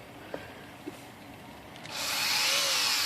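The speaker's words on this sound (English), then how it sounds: "we are going to grind this just ever so slightly. Ever so slightly with the Dremel tool." A Dremel rotary tool grinds the shift lock latch of a Smith Corona Skyriter Corsair portable typewriter, starting as a faint background whir with a couple of small taps, then surging into a loud, close, high grinding hiss.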